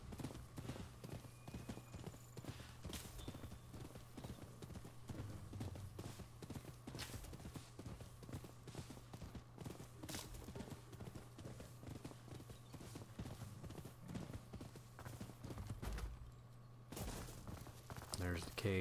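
Steady clip-clop of horse hooves at a walking pace in the samurai-era game Rise of the Ronin, an even repeating rhythm running the whole stretch beneath a low droning game ambience.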